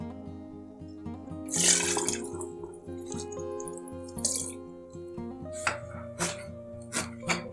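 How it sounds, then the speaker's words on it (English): Gundruk, fermented leafy greens, being washed by hand in water: splashing and sloshing bursts with drips in between, fairly quiet and close. "Wash it until water becomes clear like this"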